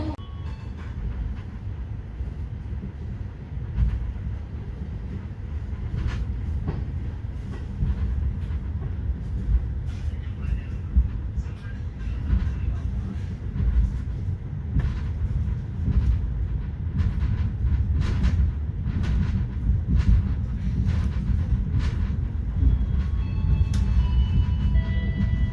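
KA Gumarang passenger train running on rails, heard from inside the carriage as a steady low rumble with rhythmic clicks and rattles from the wheels, continuous and fairly loud throughout without talk.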